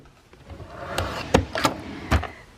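A drawer in a craft room being opened and closed, with several sharp knocks and slides of contents over a couple of seconds, fairly quiet and close with no talk.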